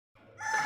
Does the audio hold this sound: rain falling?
no